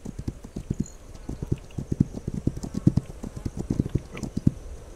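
Video game horse hooves clip-clop in a steady, uneven trot, close and fairly clear, with faint background ambience and no talking.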